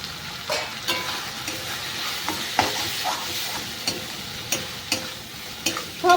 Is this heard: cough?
no